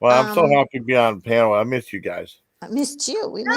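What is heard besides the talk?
None of the usual background noises is heard.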